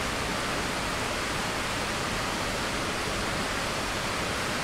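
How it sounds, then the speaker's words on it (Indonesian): Rain pours down in a steady, dense hiss that fills the background evenly, loud and unbroken, with no voices over it. "sedang hujan jadi berisik"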